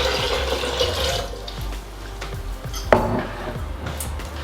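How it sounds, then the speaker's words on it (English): Three cups of water pour into a blender for homemade almond milk, a close, bright splashing stream that tapers off, followed by a clink of kitchenware. "Now we're gonna add our 3 cups of water."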